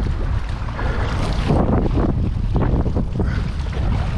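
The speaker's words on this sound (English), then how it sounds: "That wind picked up pretty good." Wind blowing hard across a lake during bass fishing from a paddled boat, a loud continuous rushing buffet against the microphone with gusting swells and water noise.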